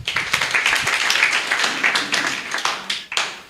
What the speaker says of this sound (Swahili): Tumpigie makofi tena.